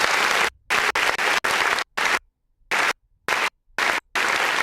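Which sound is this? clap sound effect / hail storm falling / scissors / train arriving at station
clap sound effect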